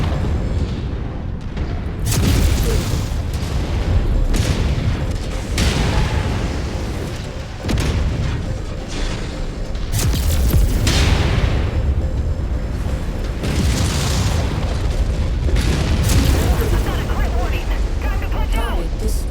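Missile strikes in a mech combat video game, a series of heavy booming blasts with deep rumbling tails arriving every few seconds, loud and close, with speech heard alongside the explosions.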